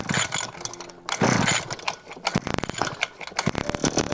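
Brushcutter engine being started after a choke repair: a near, loud run of mechanical rattling and pull-start clatter that turns into rapid, uneven sputtering bursts as the small engine tries to catch.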